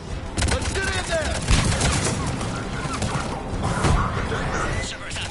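Gunfire breaks out at a checkpoint in Mass Effect as bursts of shots and heavy thumps crack close by, with voices shouting over the fight.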